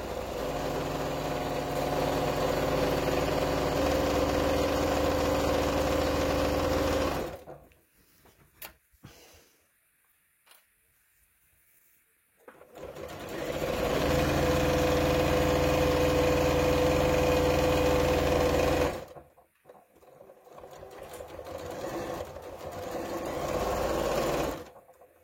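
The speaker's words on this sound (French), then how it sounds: "on va coudre à 1 cm tout le long" Sewing machine stitching a 1 cm seam along a rectangular zippered pillowcase, steady mechanical whirring in two long runs separated by a quiet pause, with a shorter burst at the end; close and moderately loud, no speech.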